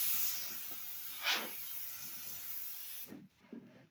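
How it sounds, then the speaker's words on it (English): Compressed-air spray can blasting dust out of a gaming PC, a steady loud hiss lasting about three seconds with a brief sharper burst partway through, then cutting off abruptly. "take a little can here and spray this out."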